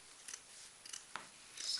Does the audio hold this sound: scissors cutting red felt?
yes